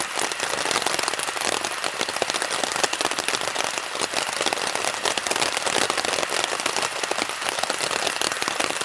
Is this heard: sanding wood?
no